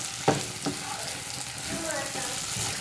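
Chicken liver with pepper frying in oil in a pan gives a steady, close hiss of sizzling throughout, with a couple of sharp utensil knocks near the start and soft stirring scrapes underneath.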